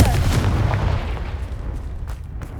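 A Confringo blasting spell explodes in Hogwarts Legacy, a loud booming burst at the start that rolls off into a decaying rumble and fading debris noise.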